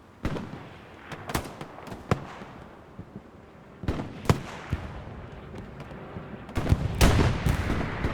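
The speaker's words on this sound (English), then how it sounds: "Gusket getting a nice rocket there." A rocket explosion and scattered gunshots in Hell Let Loose on Utah Beach, sharp cracks and distant booms spaced irregularly, ending in a louder cluster of blasts.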